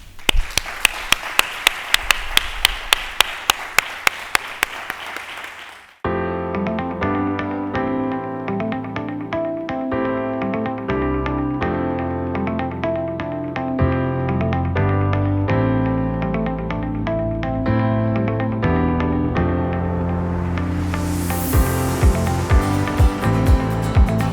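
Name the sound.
audience applause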